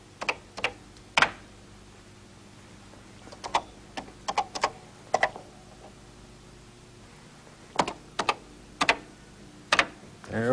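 Keys tapped on an early home computer keyboard in irregular bursts of sharp clicks, close and distinct against a quiet background with a low electrical hum.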